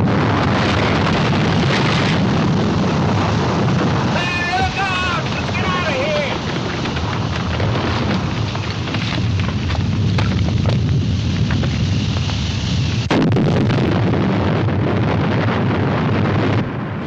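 An island explodes in a loud, sustained, rumbling blast that rolls on continuously with a sharp surge near the end, while a voice speaks briefly over it.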